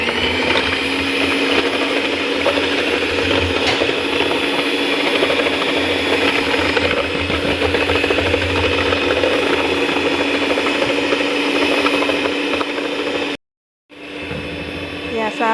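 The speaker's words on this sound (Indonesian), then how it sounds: "Kita mix sampai agak mengembang." Electric mixer beating old-fashioned cheese cake batter, a loud, steady motor whine and churning that runs continuously before cutting off abruptly near the end, then briefly resuming.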